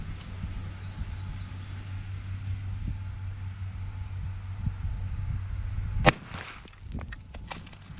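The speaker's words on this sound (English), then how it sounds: "I'm gonna take one more shot, like I said, with the 12 gauge Remington right quick." A single loud, sharp blast from a 12 gauge Remington 870 shotgun fired outdoors at a cinder block, cracking once near the end after a stretch of steady low background rumble, followed by a brief echoing decay.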